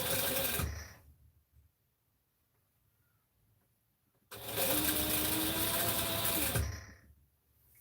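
A sewing machine stitches a tiny quarter-inch turned-up hem in two loud bursts of steady whirring, separated by a few seconds of near silence.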